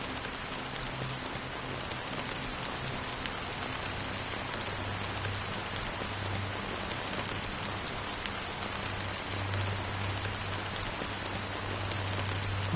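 Steady rain falls throughout a scene in the video game Honkai: Star Rail, a dense even hiss of drops pattering on surfaces with a low hum beneath, continuous and moderately loud with no voices.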